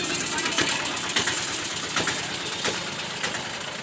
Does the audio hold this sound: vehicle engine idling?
yes